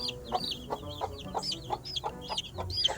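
High, rapid peeping from a group of week-old chicks, steady and busy, heard close with faint clucking underneath.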